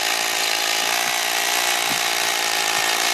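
A power drill runs steadily at high speed, drilling a hole up to 3.5 inches deep, a continuous loud whine with faint thuds underneath, no pauses.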